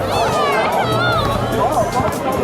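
Dense crowd chatter fills an outdoor gathering, with many overlapping voices babbling close and continuous, and one voice rising above the general hubbub.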